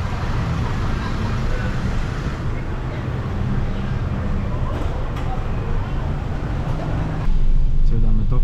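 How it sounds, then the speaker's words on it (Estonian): Inside a moving taxi in Colombia, the engine and road noise form a steady loud rumble, with surrounding traffic washing past and a brief rise in level near the end, and faint talk in the cabin. "Sõidame taksoga praegu"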